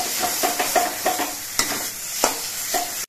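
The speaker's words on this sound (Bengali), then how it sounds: "এবার নুন হলুদ দিয়ে নেড়ে চেড়ে মিশিয়ে নিতে হবে।" Banana peel being stirred in a hot pan with salt and turmeric, a spatula scraping in quick rhythmic strokes over a soft sizzle, close and clear without any voices.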